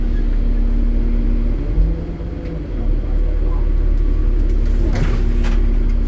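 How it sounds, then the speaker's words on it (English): A school bus creeping forward at about 5 miles per hour during a pre-trip brake test, giving a steady low engine rumble and drone with a brief shift in tone partway through. "Put the bus in drive."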